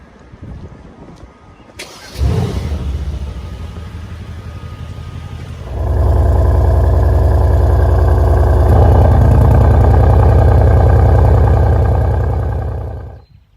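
A Mercedes-AMG bi-turbo V8 cranks and catches after a click, settles briefly, then swells into a loud, deep, steady rumble that holds close and unbroken for several seconds before cutting off.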